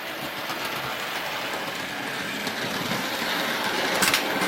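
A small OO-gauge Hornby Dublo three-rail model train with a TPO set rattles steadily along its track, a continuous clattering rumble with a brief brighter squeal near the end.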